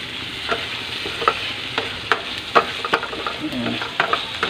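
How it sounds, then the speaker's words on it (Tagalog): Spicy pork binagoongan stirred in a hot pan with tomato, a continuous sizzle broken by repeated scraping strokes of a spoon against the pan, close and fairly loud. "Haluin natin."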